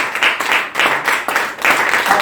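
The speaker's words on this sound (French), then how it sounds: "On acclame la parole du Seigneur." A church congregation claps together in acclamation, a loud, close burst of rhythmic clapping that swells in waves over a couple of seconds.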